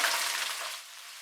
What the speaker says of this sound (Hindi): शिमला मिर्च को भी मैंने 1 मिनट फ्राई कर लिया है